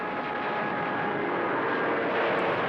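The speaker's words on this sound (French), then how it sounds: "Des centaines d'avions suicides commencent à s'écraser l'un après l'autre sur la flotte américaine." Loud, steady roar of aircraft engines droning continuously, with no breaks or voices; Second World War aircraft in the Pacific, with kamikaze attacks on the American fleet at Okinawa.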